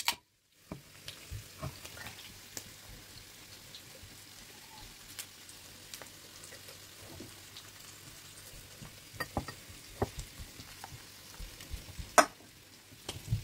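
Opening a can or bottle of Chinese beer and pouring it, with a steady fizzing hiss and small crackling pops throughout, plus a few sharper clicks and clinks, moderately near with no talk.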